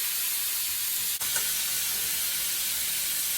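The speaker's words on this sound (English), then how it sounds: "Gotta put the steak on. Let that do its thing for about a minute." A steak sizzles steadily in a hot pan, a constant dense frying hiss throughout with one brief tap partway through.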